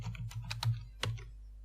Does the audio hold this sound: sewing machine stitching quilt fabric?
no